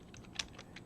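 A few quiet keystrokes on a computer keyboard, spaced irregularly, one sharper tap standing out, while entering a command in a Linux terminal session.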